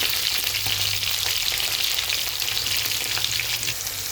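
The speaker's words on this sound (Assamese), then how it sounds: "পিঁয়াজটো ব্ৰাউন কালাৰ ফ্ৰাই কৰি লৈছোঁ" Onions frying to brown in mustard oil for a mutton and banana flower curry, a dense steady sizzle with faint stirring, close and continuous throughout with no talking.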